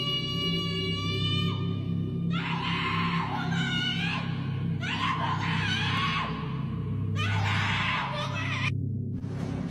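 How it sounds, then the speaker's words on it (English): Terrifying screams ring out at night in the woods: several long, high, piercing wails rising and falling in separate bursts over a steady low rumble. "he woke up to these terrifying screams"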